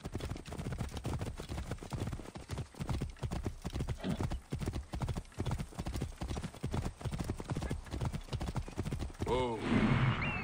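Horse hooves clip-clop in a steady, close, rhythmic trot in Assassin's Creed Origins, with a brief whinny near the end and a voice talking over the hoofbeats.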